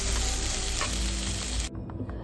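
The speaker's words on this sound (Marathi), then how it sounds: "1 मोठा टोमॅटो घेऊन तेलात आता मी असं शालो फ्राय करते" Onion and a large tomato shallow frying in hot oil in a pan, a close steady sizzle that drops away abruptly near the end.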